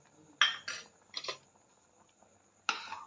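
Spoon clinking and scraping against a pot while stirring bhagar with crushed peanuts, in four separate short bursts of rough stirring with quiet gaps between them, close and fairly loud.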